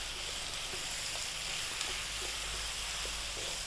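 Tomato paste cooking in a pot over medium heat for a lamb vegetable stew, giving off a soft, steady sizzle and hiss with faint scattered pops.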